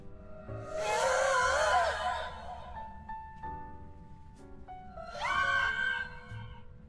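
Banshee ghost scream from the video game Phasmophobia: a loud, shrill wavering shriek lasting about two seconds, then sustained eerie tones and a second shorter scream, over a low rumbling ambience.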